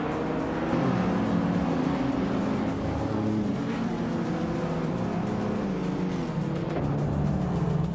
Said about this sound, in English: Maya starting on pole position, behind the wheel of a 1983 Porsche 911 930 Turbo DA